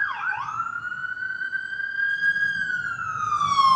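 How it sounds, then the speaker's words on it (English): An emergency vehicle siren wails on a Hollywood street in Los Angeles, one loud, close tone sweeping down and then holding a long, steady rising pitch over low traffic rumble, with no talking. "sorry about the sirens."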